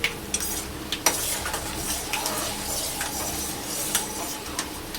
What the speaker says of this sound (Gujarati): થોડા કાચા પકા તરાય ને ત્યાં સુધી આપણે હલાવી લઈએ.